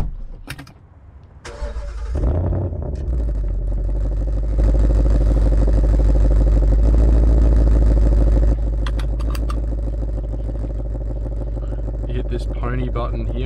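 Ford Mustang 5.0L V8 starting and then driving, a loud close rumbling exhaust note that rises and holds heavily mid-run before easing back to a steady drone, with clatter at the start and a few sharp clicks near the end.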